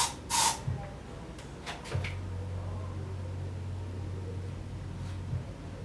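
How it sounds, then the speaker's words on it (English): A short hiss of cotton breeze air freshener spray near the start, followed by a few light clicks and a steady low hum in the background. "Let's do a spray test."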